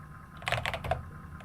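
Keys clatter on a Commodore 64 Ultimate keyboard in a short burst of about half a second of quick clicky strokes, close-up, with quiet background hum before and after.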